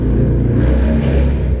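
Loud, close engine roar of a vehicle revving outside, a continuous low growl held for the whole short stretch with no voices.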